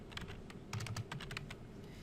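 Typing on a computer keyboard, labelling the parts of a balsa glider; a quick run of close key clicks, some in a burst, with brief pauses and no speech.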